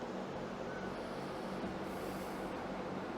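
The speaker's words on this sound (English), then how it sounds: "Another train leaving Dawlish station." A train pulling out of Dawlish station on a drizzly day gives a quiet, distant, continuous rumble, with no voices over it.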